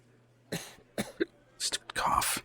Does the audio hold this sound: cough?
yes